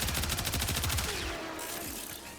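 Rapid automatic bursts from a Soma Prime rifle in the game Warframe, a fast stream of sharp shots that runs for about a second and a half and then stops.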